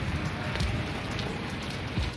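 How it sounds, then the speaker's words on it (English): Rain falls steadily outdoors in Canada, a dense, close patter of drops on surfaces with no pauses. "sometimes it's pouring rain, sometimes it's slow."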